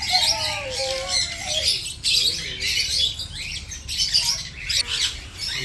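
Large birds at an exotic bird park in Tirupati give loud, harsh squawks in repeated bursts, close and dominant, with some higher chirps mixed in.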